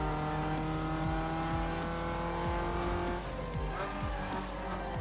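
A race car in Need for Speed Underground 2 holds a continuous loud engine drone while the pitch repeatedly drops and climbs through gear changes, as if braking and accelerating through corners.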